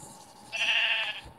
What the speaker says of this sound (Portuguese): Tem uma ovelha ali.